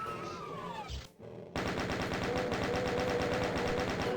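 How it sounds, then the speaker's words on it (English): A chain gun in the video game DOOM fires in a rapid, continuous stream of loud mechanical shots after a brief burst and a short pause, with other game sounds heard just before. "let's break out our chain gun"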